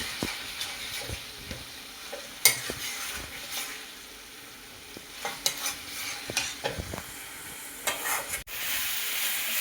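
A chicken leg roast sizzles steadily in a pan while being stirred through spice masala, with scraping stirring strokes and soft clinks over a continuous frying hiss, and no voices.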